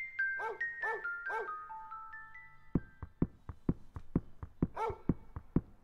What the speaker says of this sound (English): I hear a dog.